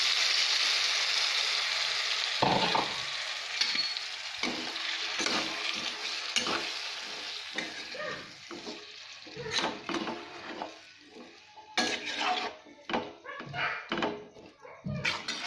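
Mixed vegetables for veg biryani frying in a pan, a hissing sizzle broken by repeated scraping and clattering stirs, close; a dog barks and whimpers in the background.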